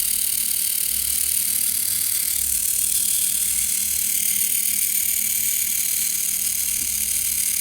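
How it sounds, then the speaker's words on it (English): Servo motor modified for continuous rotation on a Pi-based wheeled robot, running fast with a loud, constant whirring and ratcheting gear buzz that holds steady throughout without pauses. "Okay, now the servo moves quite fast,"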